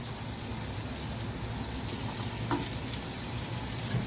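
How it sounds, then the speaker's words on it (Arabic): Garlic, onion and chicken frying together in a pot, a steady close sizzle with a soft crackle and a couple of faint utensil knocks. "وراح احمس الثوم مع البصل والدياي بهالشكل مع بعض"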